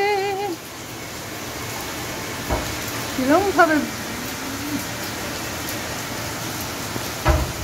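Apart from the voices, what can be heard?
rain falling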